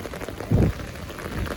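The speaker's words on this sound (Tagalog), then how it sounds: "Grabe ang ulan." Heavy rain pours in Kuwait, a dense steady hiss of drops hitting surfaces nearby, with one brief low thump partway through and no talk.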